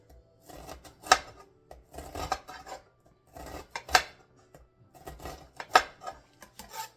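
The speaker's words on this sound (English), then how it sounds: "And we will mince these onions" A knife mincing onions on a cutting board for guacamole, heard as clusters of quick, close chopping taps with sharper knocks about every few seconds, with no talking.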